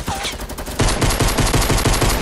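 Pistol fire in the video game Fortnite rings out as quick, evenly spaced shots that turn into a loud, steady run of rapid cracks after a short, busier opening.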